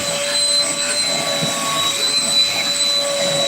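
A Dnipro-m cordless car vacuum cleaner runs continuously with a steady whining motor hum and high tonal whistle, close and fairly loud, with no talking.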